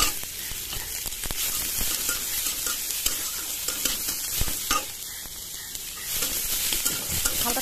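Chopped onion and chilies sizzle and crackle in a little hot oil in a pan, a steady bright frying hiss with occasional stirring scrapes, close and continuous with no talk.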